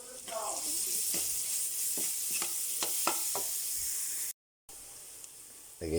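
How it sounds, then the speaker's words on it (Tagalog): Ginger and garlic sauté in a hot pan with a steady close sizzle and hiss, broken by several sharp scraping stirs, then a brief silent gap before the frying resumes. "Gigisa na po tayo."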